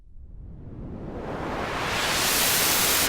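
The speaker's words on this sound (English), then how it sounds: "I'm just going to go to the white noise and hit play and open up my mod wheel." Synthesizer white noise with its filter opened by the mod wheel, a continuous hiss that sweeps steadily brighter and grows louder over about three seconds, heard alone.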